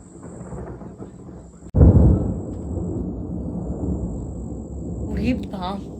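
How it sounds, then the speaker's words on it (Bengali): A thunderstorm with rain in the mountains of Bhutan: a sudden loud thunderclap breaks over a quiet rain-washed background, then rolls into a long, heavy rumble that lingers to the end. "দেখেছো বিদ্যুৎ চমকাচ্ছে এটা কিন্তু পুরো টোটাল বৃষ্টি হচ্ছে ভুটানে"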